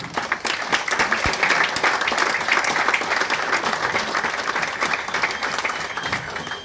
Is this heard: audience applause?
yes